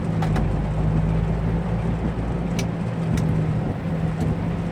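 A car driving on a flooded road with water in the front wheel wells, heard from inside as a steady, loud low engine and road rumble with faint splashing, without talking.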